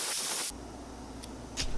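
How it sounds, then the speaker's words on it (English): Gold highlight spray paint hisses onto bluegill fridge magnet molds: a strong, steady spray for half a second, then two brief puffs, close and clear. "Spray some highlight over that matches."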